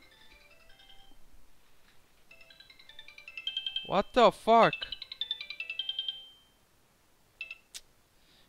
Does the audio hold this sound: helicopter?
no